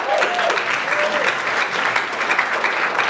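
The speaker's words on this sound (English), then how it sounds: "Round of applause, please." Steady applause from a conference audience as a speaker comes to the stage, dense clapping that holds at an even level throughout, with a couple of brief whistle-like tones near the start.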